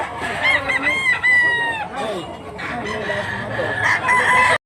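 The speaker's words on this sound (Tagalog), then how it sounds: "Malaking manok" A rooster crows loudly and close by, with other chickens clucking and a second crow following, amid background farmyard noise.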